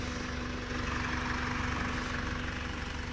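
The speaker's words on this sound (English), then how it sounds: "the aircon compressor running." A Mercedes A180 CDI diesel with a timing-chain-driven engine idles while its air-conditioning compressor and fan run. The result is a steady, droning hum with a faint whine, heard alone.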